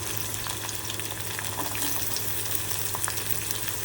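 Chopped garlic and onions fry in a pan, giving a steady, close, bright sizzle with faint crackles and spits throughout and no talk over it.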